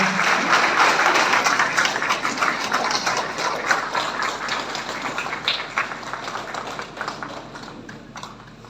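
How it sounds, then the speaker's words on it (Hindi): Loud, dense applause from a crowd welcoming guests at a ceremony marking Emperor Ashoka's birth anniversary, sustained throughout and slowly tapering toward the end. "जोरदार तालियों से इनका स्वागत अभिनंदन"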